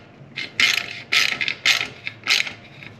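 A ratchet tightens the exhaust clamp on a 2022 Honda CBR500R, fitted with a Coffman's shorty exhaust tip. It gives four or five close, bright bursts of rapid clicking, each about a third of a second long, separated by short pauses.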